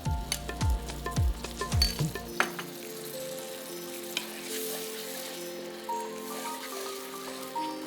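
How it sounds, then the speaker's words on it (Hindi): Yogurt, about half a cup, tipped into spices frying in a pan for barnyard millet (jhangora) biryani, giving a close, steady sizzle after a few clattering stirs at the start, with no talking. "अभी मसाले में डाला दही, लगभग आधा कप है जी।"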